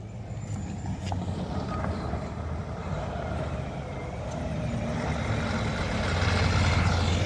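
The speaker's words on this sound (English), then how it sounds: "Truck's coming." A truck approaches on a road in Blue Lake, California, with a steady low engine rumble that grows gradually louder as it nears.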